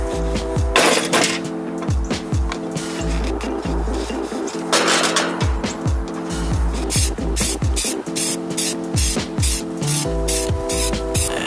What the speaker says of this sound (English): I'm gonna spray paint these black.